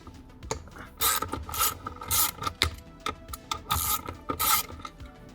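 A ratchet on a 10 mm socket loosens bolts on a Cybertruck screen mount, giving close, bursty clicking runs separated by brief pauses.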